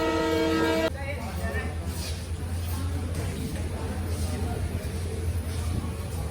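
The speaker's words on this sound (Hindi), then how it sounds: "5 मिनट के होल्ड के बाद डिपार्चर होता हुआ सादुलपुर जंक्शन रेलवे स्टेशन से बाड़मेर सुपरफास्ट का।" The Barmer Superfast Express pulls out of Sadulpur Junction station. A horn sounds briefly at the start, then a low steady rumble of rolling wheels runs underneath, with voices talking over it.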